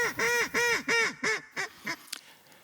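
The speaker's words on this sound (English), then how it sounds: "This is a royalty-free sound effect, by the way" A duck quacks in a quick run of about six loud nasal calls, each shorter and fainter than the last, clear and close with nothing else heard.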